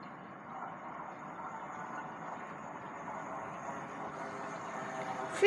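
A train passes at Shelford as a steady, moderately loud rumble and hiss of rolling wheels that holds evenly throughout, with a faint whine above it and a sudden louder burst at the very end.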